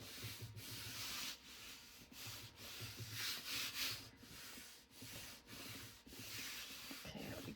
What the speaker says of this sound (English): And just rub it down.